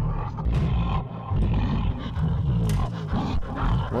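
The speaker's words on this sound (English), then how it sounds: "It's the sound of a fucking monster," A monster in a horror video game gives repeated deep, growling roars, loud and close, in several rolling bursts with short gaps between them.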